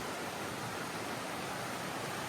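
A waterfall right beside a mountain hiking trail roars as a dense, unbroken rush of falling water, constant and close, with nothing else heard over it.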